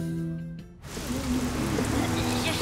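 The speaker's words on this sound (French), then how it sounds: "Il a oublié de fermer sa fenêtre et il pleut chez lui." Rain pours in through an open window into a room, a steady hiss of falling drops starting abruptly after a brief musical tone and continuing loud and even.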